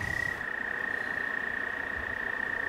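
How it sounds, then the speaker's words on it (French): Small toads croak around a lakeside pike-fishing spot, a steady high-pitched trill holding one unbroken tone under a constant low rumble of water or wind, with no voices. "Regardez les petits crapauds là qui se baladent"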